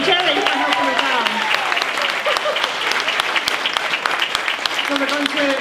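Audience applause at a tribute concert at a summer school of traditional Irish music in South Sligo, steady and full throughout, with a voice and tonal sounds briefly audible over the clapping at the start.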